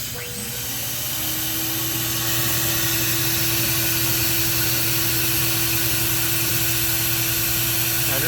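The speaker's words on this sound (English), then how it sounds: "There's a vacuum cleaner that's vacuuming up the particles." A vacuum cleaner whirs inside a Sharp Precision SP114 delidder as it sucks up particles, spinning up over the first second into a steady loud whine with a constant low hum.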